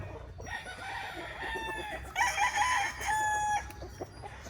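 Broodstag roosters on a farm, tethered during breeding season, crow and cluck nearby in short overlapping calls, one clear crow rising in the middle.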